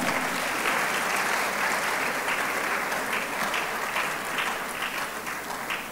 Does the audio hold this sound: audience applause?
yes